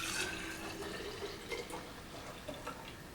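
Juice from an Omega 8004 juicer pours into a mason jar: a soft, close, continuous liquid trickle with a few small splashes, fairly quiet, with no talking.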